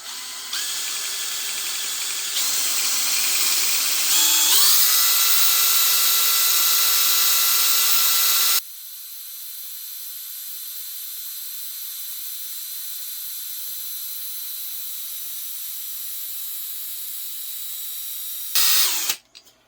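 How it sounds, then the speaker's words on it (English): A COZY MKIV airplane's electric-powered engine spins up on the ground, rising in stages to a loud steady high-pitched whine, then drops to a quieter sustained hum before a brief surge near the end. "now I'm going to turn on our engine"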